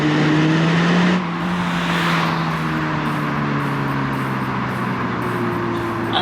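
2025 MINI Cooper S pulling hard in power mode, a droning engine note rising in pitch through the run with road and wind noise in the cabin, steady and fairly loud, no talk.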